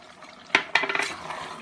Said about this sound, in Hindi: इसे अच्छे से चला लेंगे।